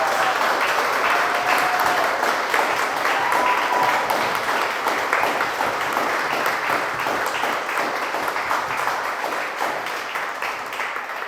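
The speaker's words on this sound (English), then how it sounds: "If you all will join me in giving Olu a giant round" Sustained audience applause at an artist talk honoring a prize recipient, dense steady clapping from a crowd that stays loud for several seconds and eases slightly toward the end.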